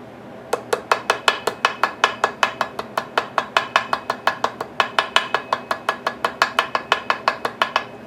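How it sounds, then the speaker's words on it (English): Steady hammer blows on metal from a Briggs Model Y engine rebuild, around thirty sharp ringing strikes at an even, quick rhythm, close and fairly loud with no talking. "So you can keep going and hammering it"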